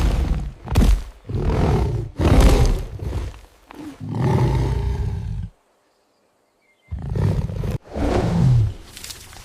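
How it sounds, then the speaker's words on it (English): A lion roars loud and close in a dramatized scene, several long primal bursts in a row, then a brief silence before more roars follow. "the lion appears. A sound, a roar, primal, hungry, close."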